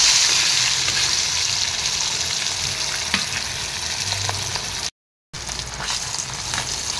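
Two pieces of fish, seasoned with salt and turmeric, fry in hot oil for a taro and fish curry, giving a loud, steady sizzle and crackle throughout that cuts out briefly partway through.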